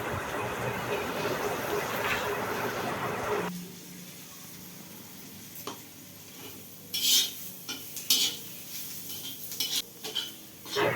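Masala with chichurti leaves and salt stirred in a pan, heard as a loud cooking rush that drops away, followed by several clinks and scrapes of a utensil against the pan.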